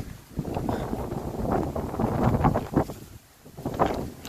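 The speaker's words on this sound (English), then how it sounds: "The wind is brisk." Brisk wind blows outdoors beside a church on Grand Isle, buffeting the microphone in loud, uneven gusts that swell and briefly drop away.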